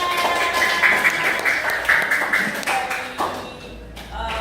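Young children clap their hands together during a morning classroom lesson, a quick burst of close, scattered claps mixed with small voices before it fades away.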